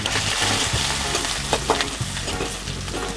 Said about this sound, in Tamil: வெங்காயம் நல்லா ப்ரௌன் கலர் ஆகட்டுமா?